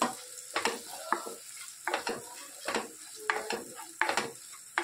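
Garlic, green chilies and the white part of green onion frying and being stirred in a pan for Surti gotala dosa, with a steady sizzle broken by repeated scraping stirs of a spatula against the pan.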